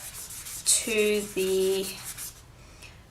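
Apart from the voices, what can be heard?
sanding polymer clay bracelet with fine grit sandpaper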